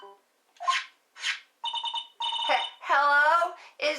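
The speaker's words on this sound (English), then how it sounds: "Nick, your phone!" A phone rings in the Phoenix Wright: Trials and Tribulations courtroom game as a string of short synthetic warbling tones, starting with brief chirps and swelling into a louder, sustained trill near the end.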